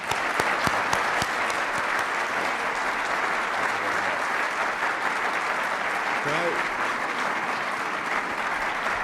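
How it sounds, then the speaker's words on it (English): Sustained audience applause at a chamber of commerce event welcoming the Illinois governor, a dense steady clapping from a crowd filling the room for the whole stretch. "let's shake it up with a round of applause for Governor Bruce Rauner."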